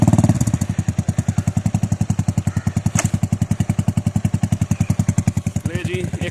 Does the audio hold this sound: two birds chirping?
no